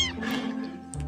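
A cute cat gives a single short meow, close and clear, followed by faint rustling.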